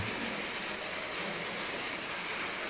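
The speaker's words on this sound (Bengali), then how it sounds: "ফুল বৃষ্টি পড়ছে, ফুল বৃষ্টি।" Heavy rain falls at night in East Sikkim, a dense, steady roar of hiss that holds at an even level throughout, with nothing else standing out.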